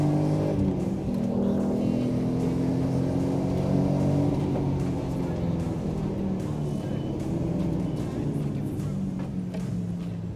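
A race car engine roars hard down the straight at Donington, a loud, sustained drone with rising pitch under heavy acceleration, heard close from inside the car throughout.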